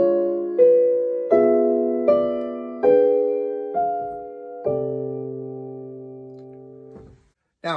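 Piano plays a sequence of drop 2 chord voicings, each with an upper appoggiatura placed above the top note, moving through related dominant harmony. Six sustained chords strike one after another at a steady pace, the last held longest, alone and clear.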